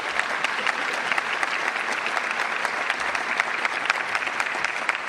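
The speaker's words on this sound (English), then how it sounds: "Let's give all of them a round of applause, please." Audience applause at a school district State of the District address, a sustained even roll of many hands clapping in a large hall, moderately loud and steady for several seconds with no talking.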